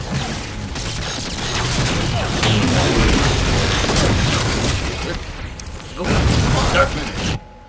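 Dense, rumbling bursts of Halo 4 explosions and gunfire, loud and nearly continuous, with a voice mixed in beneath the chaos.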